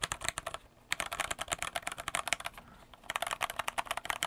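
Rapid, steady typing on a stock mechanical keyboard, close and clear, with crisp clacky keystrokes and a brief pause partway through.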